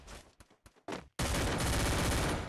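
Gunfire in the Free Fire mobile game: a few separate sharp shots, then a dense continuous burst of rapid fire, loud and close, with no talking.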